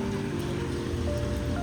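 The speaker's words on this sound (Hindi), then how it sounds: "बारिश" Steady rain falls on a road along a route in Shillong, a dense continuous hiss with close patter and no speech.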